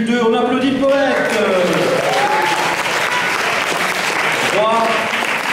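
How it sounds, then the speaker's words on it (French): An audience at a French poetry slam applauds a poet with steady, dense clapping throughout, while a host's voice speaks over it. "On applaudit le poète."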